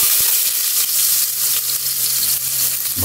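Ginger sizzling and frying in a hot pan, a steady close crackle of oil running throughout with a brief stir or clatter near the end.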